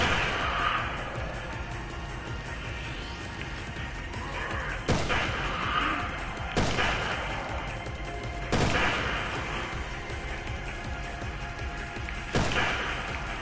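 Repeated gunfire from the zombie shooter Resident Evil Revelations 2 in Raid Mode, with several sharp, loud shot bursts every couple of seconds over a steady background of game ambience.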